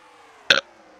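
A single short, loud burp, about a tenth of a second long, stands out against a quiet background hum.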